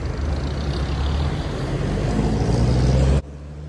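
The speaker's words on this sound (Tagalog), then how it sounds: "Daming sasakyan." Heavy road traffic rumbles past on a Baguio City street near Mines View, a dense, steady low roar of many vehicles that cuts off abruptly near the end.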